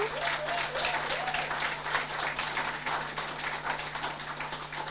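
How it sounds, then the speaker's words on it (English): An audience at the Dominica Calypso "Kaiso" Hall of Fame induction ceremony applauds the inductees, with steady dense clapping sustained throughout and a low hum underneath. "Let's give them a round of applause."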